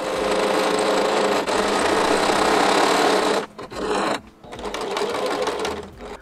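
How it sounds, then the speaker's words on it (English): A sewing machine stitches cotton fabric for a child's apron with a loud, steady whirring hum that halts briefly for a pivot, then runs again. "my next job was to sew the sides and around the bottom and back up the other side"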